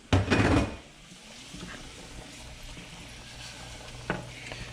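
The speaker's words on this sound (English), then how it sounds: "we're just gonna let this guy simmer for just a little bit" Oil simmering in a pan with aromatics for shrimp and lemon pasta, opening with a louder burst of sizzle and stirring, then settling into a soft steady sizzle with a brief clack near the end.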